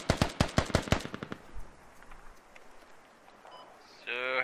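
Rapid bursts of gunfire from the military shooter game Squad, a fast string of loud close shots in the first second, then sparser fainter distant shots over a noisy battlefield background.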